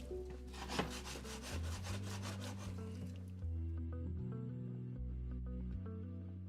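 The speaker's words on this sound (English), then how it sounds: "take and scrape across the entire bottom of this pan" A utensil scrapes caramelized tomato-paste fond off the bottom of a pan during shepherd's pie cooking, with quick rhythmic rasping strokes for about three seconds before fading under a steady low hum.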